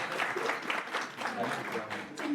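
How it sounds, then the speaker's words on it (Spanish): Audience applause at a public consultation forum in Mexico City, moderately quiet and sustained, a continuous wash of clapping with some voices mixed in. "Denle un fuerte aplauso a la doctora."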